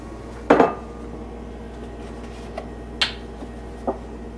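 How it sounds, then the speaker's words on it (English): Egg cracked into a bowl while making breaded chicken cordon bleu: one sharp crack near the start, followed later by a couple of lighter clinks of shell or utensil against the dish, close in a quiet kitchen. "you're going to want to crack that egg in there."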